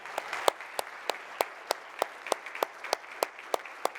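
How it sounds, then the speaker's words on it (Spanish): Steady rhythmic clapping from a church congregation, sharp evenly spaced claps about three per second, continuing without talk. "Un aplauso bien fuerte a nuestro Señor."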